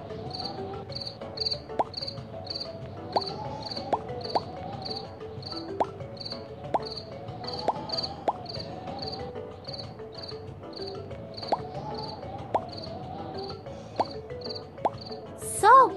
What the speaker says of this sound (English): Everybody's sleeping, but crickets disturb them.